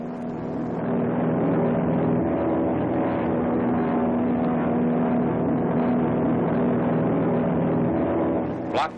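Landing craft engines at Kuba Beach, Okinawa, in 1945, a loud, steady low motor drone with a throbbing hum that holds constant for several seconds, heard close with no voices.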